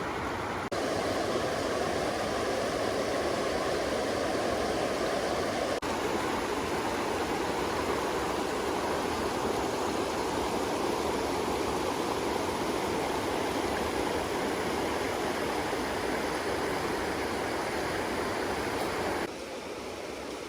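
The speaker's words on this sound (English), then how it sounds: "This is the Green River." The Green River in Flaming Geyser State Park, Washington, rushes as a steady, broad roar of flowing water, close and constant throughout, with no voices over it.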